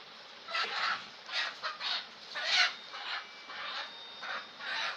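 A chicken clucks in a run of short, bursty calls, fairly faint, with a quiet background and no talk.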